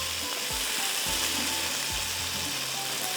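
Fish pieces coated in masala fry in hot oil with a steady, dense sizzle, close and constant, with a few low scraping stirs underneath.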